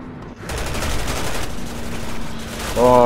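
Chris sustains rapid automatic gunfire in Resident Evil 6, loud and close, for most of three seconds. A voice briefly cuts in at the end.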